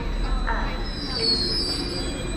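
A Greater Anglia unit 755-415 train at Shippea Hill station produces a steady rumble with high, thin wheel squeal running across it, close and continuous, with no clear talking.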